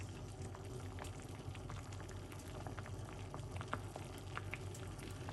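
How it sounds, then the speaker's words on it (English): Parsley, lemon and water simmer in a pot, giving a soft, continuous bubbling with scattered small pops, close and fairly quiet, with no talking. "So we're just going to let this simmer down."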